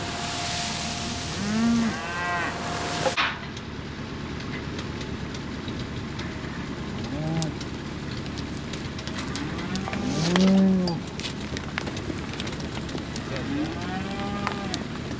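Several cows moo at intervals, some near and some farther off, over a steady engine rumble in the background, hungry cows in a middle field awaiting feeding.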